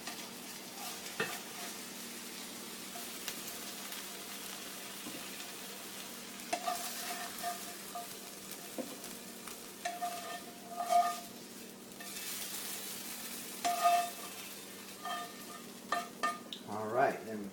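Onion, corn and tomato sizzle steadily in a frying pan, with scattered scraping stirs and a few light clinks of utensils against the pan over a soft continuous fry.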